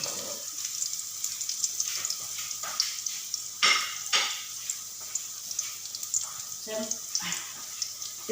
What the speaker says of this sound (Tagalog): nagpiprito ako ng daing na isda